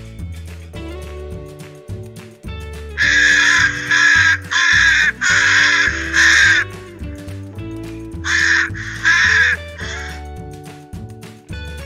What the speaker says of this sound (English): Crows, tool-using engineers.